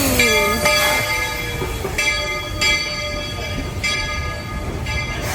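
A Walt Disney World Magic Kingdom railroad train rumbles steadily nearby with rhythmic clacks from the wheels and faint squealing tones, continuous and fairly loud without talk.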